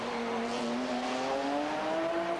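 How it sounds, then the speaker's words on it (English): A 600-horsepower restricted V12 GT race car engine at the 1997 FIA GT round in Helsinki drones loudly and steadily, its pitch climbing gradually as it pulls hard under acceleration. "600 horsepower, these restrictors, but massive torque from this V12 engine"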